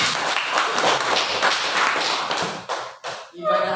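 A classroom group claps on cue during a hajj lesson, a short burst of scattered clapping and taps mixed with voices, breaking off into a few isolated claps and a voice at the end.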